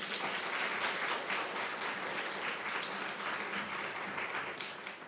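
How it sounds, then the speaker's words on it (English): A round of applause from a conference audience at an opening and welcome session, a continuous wash of many hands clapping at moderate distance, steady and unbroken with no talk over it. "we'll give her a round of applause"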